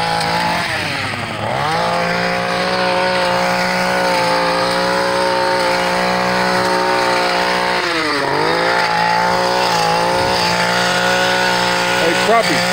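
A power trimmer cuts bushes outdoors, its motor a loud, steady, buzzing drone that runs throughout with slight dips in pitch as it works through the branches.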